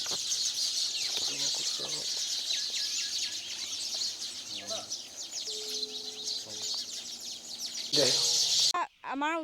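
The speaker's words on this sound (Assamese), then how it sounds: "আমাৰ ওচৰতে ঘৰচিৰিকা চৰাই একদম বহুত মানে বাহ লৈছে" A large flock of house sparrows in a village in Golaghat, Assam, chirping densely and continuously close by, a steady bright chatter throughout with brief louder bursts near the end.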